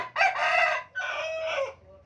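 A seven-month-old young gamecock crows twice in close succession, the calls loud and near in a quiet setting, with no talking.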